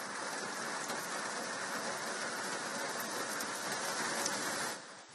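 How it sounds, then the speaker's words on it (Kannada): Steady rain pours over Bengaluru, a dense, even hiss of falling water that holds at a constant level throughout before easing slightly at the very end, with no voices. "ನಗರದ ಬಹುತೇಕ ಕಡೆ ಇದೀಗ ಮತ್ತೆ ಮಳೆ ಆಗ್ತಾ ಇದೆ"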